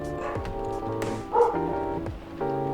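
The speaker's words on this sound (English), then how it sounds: "My God, these dogs." Several dogs yip and bark close by in short overlapping bursts, with a brief louder whimpering yelp midway through the clip.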